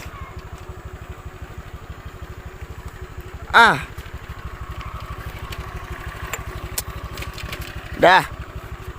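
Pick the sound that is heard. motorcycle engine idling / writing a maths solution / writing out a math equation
motorcycle engine idling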